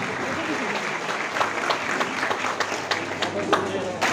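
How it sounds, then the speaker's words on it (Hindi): A crowd at a Jharkhand Congress welcome event in Khalari claps steadily to greet a newly appointed state party president, sustained dense applause with sharper individual claps standing out throughout. "जोरदार ताली बजाकर स्वागत करें"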